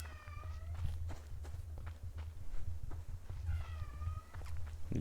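A pet cat meows twice in the background, brief rising and falling calls at the start and again near the end, over a steady low hum and scattered light knocks, with no voices.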